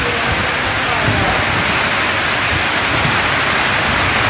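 Steady, dense broadband hiss of heavy rain pouring down continuously in Gujrat, Pakistan, with no pauses and no voices.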